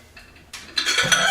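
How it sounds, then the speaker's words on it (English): Store-bought celery and vegetables dropping into a cooking pot, a few light taps at first, then a louder rustling clatter as the pieces tumble in close by. "It came from the store, and I'm putting it all into a pot."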